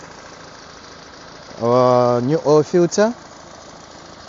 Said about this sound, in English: See how this engine is running perfect. Nothing funny, no misfire, zero misfire.